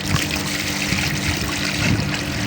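Water trickles and splashes steadily as it is poured out for pigeons to drink in hot weather in Oman, a continuous close liquid dribble with no voices.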